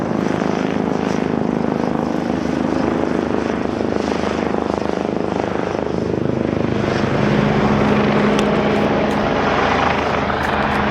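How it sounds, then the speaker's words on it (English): A medical life-flight helicopter passing overhead near a hospital in Rockport on the ocean coast, a loud continuous rotor and engine drone that holds steady throughout, with no talk. "Sounds like somebody's getting a life flight."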